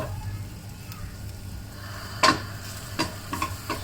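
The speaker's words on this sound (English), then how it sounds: "And then continue to stir fry" Meat being stir-fried in a pan with tan tan sauce seasoning for Japanese ramen, a soft continuous sizzle broken by a few sharp scraping clacks of a utensil against the pan, close and moderately loud, no talking.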